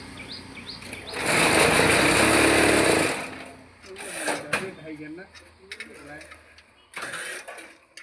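A packet-making machine gives a loud, harsh burst of mechanical noise for about two seconds, then cuts out. Shorter, fainter machine bursts follow, with people talking nearby.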